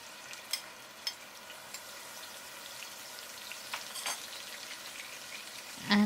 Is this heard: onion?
yes